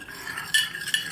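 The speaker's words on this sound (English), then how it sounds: "mix this mixture very well" A spoon stirs a small mixture of lemon juice and almond oil in a bowl, giving a few close, light clinks and scrapes of metal against the dish.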